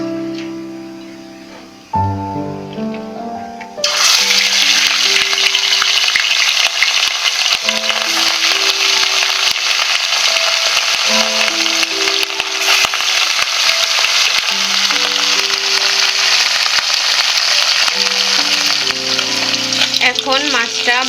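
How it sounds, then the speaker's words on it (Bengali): Rohu fish frying in hot oil in a wok, a loud steady sizzle that bursts in after a quiet start and crackles on continuously, with a tonal melody playing underneath throughout. "এখন মাছটা ভাজা হয়ে গিয়েছে, আমি মাছটাকে তুলে নিচ্ছি।"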